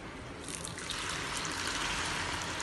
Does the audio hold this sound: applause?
no